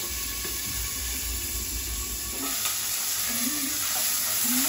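Dried green chillies frying in oil in a pan, giving an even, close hiss and sizzle with faint crackles throughout and no voices.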